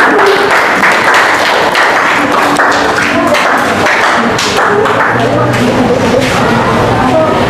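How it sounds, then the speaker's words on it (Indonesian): A classroom audience applauds group 3 before their science presentation, a dense, steady patter of clapping with some thumps that carries at full loudness throughout. "Kasih tepuk tangan dulu untuk kelompok 3."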